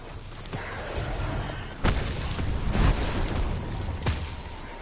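Several booming explosions go off amid constant Destiny 2 game action, with big hits near the two-second and four-second marks and rumbling noise throughout.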